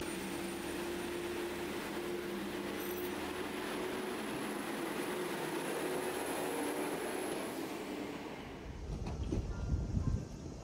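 Kuromatsu sightseeing train on the Kyoto Tango Railway heard from inside, a steady rumbling ride noise with a faint high whine, easing at the end into a softer, rattling close as it slows.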